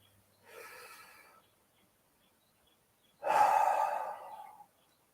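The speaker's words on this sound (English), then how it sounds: "let's take another deep breath with an open mouth" Two breaths taken close to the microphone through an open mouth: a softer inhale, a pause, then a longer, louder breathy exhale.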